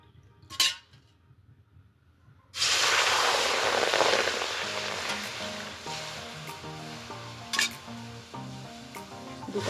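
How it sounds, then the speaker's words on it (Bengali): Two cups of water poured into a hot wok of thin jaggery syrup for gur rosogolla, bursting into a loud steady sizzle with a metallic clink before and after, fading slowly. "দু কাপ পরিমাণে জল দিয়ে দিলাম।"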